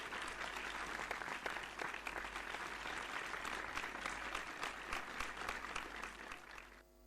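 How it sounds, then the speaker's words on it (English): Audience at a conference applauding a keynote speaker, a full, even round of clapping with a low hum underneath, holding steady before fading out near the end. "for a keynote speech with a big round of applause"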